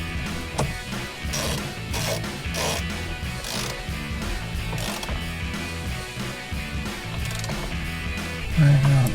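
A ratchet snugs a bolt on a 2018-2023 Ford Mustang steering wheel: quick repeated clicking of the pawl in short close bursts, steady and mechanical, with no talk over it.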